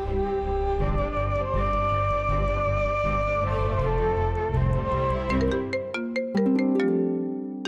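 A melodic phone ringtone plays continuously and fairly loud, a repeating electronic tune with bright tones, no voices over it.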